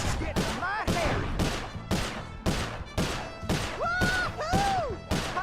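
Gunfire rings out in the video game Sly 4 Thieves in Time during target practice: a rapid run of loud, sharp shots in steady bursts, with swooping cartoonish tones and game effects between them.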